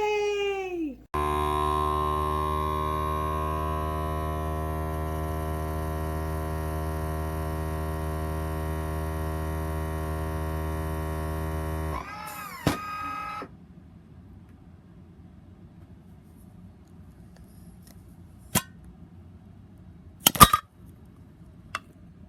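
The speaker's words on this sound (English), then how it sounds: "So that's why I'm transferring to the vacuum seal." A FoodSaver V4400 2-in-1 vacuum sealer runs with a loud, steady motor hum for about eleven seconds, then cuts off, followed by quiet handling clicks and clinks.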